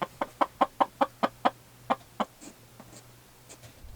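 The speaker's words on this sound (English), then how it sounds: "let's take out the few vegetable scraps to the hens. They're out free roaming today." Free-roaming hens cluck outdoors in a quick, regular run of close, loud clucks that slows and fades into softer, scattered calls.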